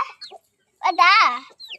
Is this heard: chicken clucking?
yes